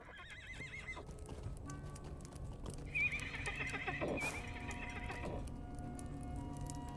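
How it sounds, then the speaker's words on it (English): A video game steed, a horse, clip-clops at a steady walking pace and lets out a neigh near the middle, playing over a constant bed of game music and ambience. "This must be the steed."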